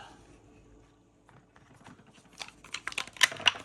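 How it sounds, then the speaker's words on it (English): Dice clatter and tumble across a wooden Dreuke Blue Chip Game Company board in quick, sharp clicks, building to a few louder knocks, close and fairly faint. "Let's roll some dice so you can hear how it sounds."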